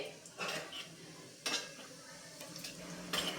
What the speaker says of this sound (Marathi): थोडेसे आपल्याला हे फ्राय करायचे आहेत आता यामध्येच घालतीये मी अर्धा चमचा अख्खे जिरे